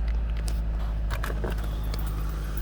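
A 2011 Nissan Rogue SV AWD with a 2.5-litre engine and CVT fires up and settles into a steady, even idle, close and continuous, with a few light clicks and rattles inside the cabin.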